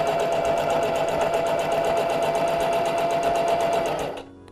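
A sewing machine stitches a fabric face mask in a fast, even, rapid rattle held at a constant pace for about four seconds, then stops abruptly, with no voices.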